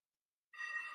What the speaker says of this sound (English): Hold on. That's my phone ringing.